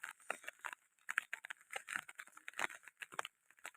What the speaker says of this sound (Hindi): छाता के ऊपर जो आवाज़ आ रही है कट कट की